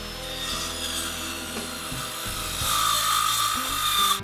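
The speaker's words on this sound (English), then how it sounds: "before I cut my stock to length I always like to cut off the very end where there might be some checking" A saw cuts through the checked, kiln-dried end grain of a walnut board, a steady close rasping drone that holds for about four seconds with a brief dip midway and grows slightly louder toward the end.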